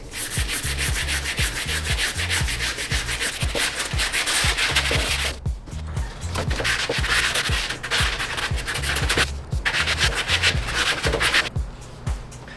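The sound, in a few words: sanding with 60 grit sanding pad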